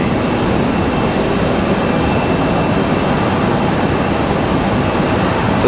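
An American Airlines A321 airliner taxiing at Raleigh-Durham airport gives a steady, dense broadband engine roar, loud and unbroken throughout with no voices.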